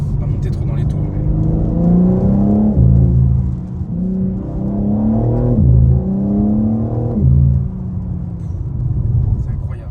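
A BMW M4 Competition G82 xDrive engine rumbling and revving from inside the cabin, its deep muffled note rising and falling in several pitch sweeps, loud and close, with people talking over it.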